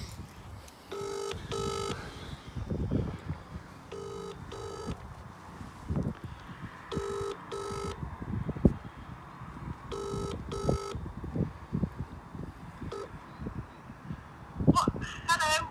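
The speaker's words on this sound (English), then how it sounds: "Oh, let's just phone her and see where she is." A phone ringback tone sounds outdoors as a call is placed, paired electronic beeps repeating several times at regular intervals, moderately loud over wind noise and people talking nearby.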